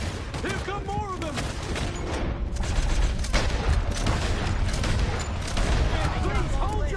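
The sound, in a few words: gunfire in video game Red Dead Redemption 2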